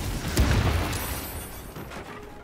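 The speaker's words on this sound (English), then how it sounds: "What if we ignite that barrel? Will that cause a chain reaction explosion?" A barrel is ignited in Baldur's Gate 3, setting off a deep booming explosion followed by a rolling, crackling rumble of fire that slowly fades, loud and close.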